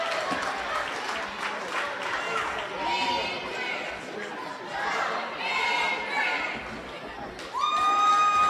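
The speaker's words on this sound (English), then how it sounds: "with a capacity crowd, we got both cheerleaders teams out there trying to cheer on their teams" A packed gym crowd at a high school basketball game cheers, claps and shouts continuously, children's yells and cheerleader chants rising in swells, with a loud burst of cheering at the end.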